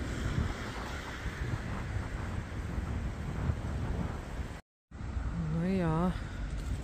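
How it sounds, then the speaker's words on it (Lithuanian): Strong cold wind buffeting the microphone outdoors in a Halloween-decorated park, a continuous low roaring gust noise with a brief dropout and a wavering rising-and-falling tone near the end. "kaip šalta čia. Vėjas labai."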